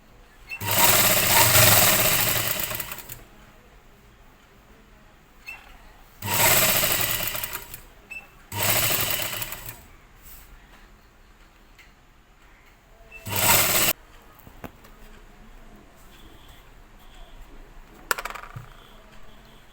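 An electric sewing machine stitches a folded petticoat hem in several bursts of rapid, steady whirring, separated by quiet pauses, and then one short final run.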